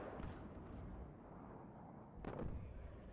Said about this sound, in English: Bomb landing nicely.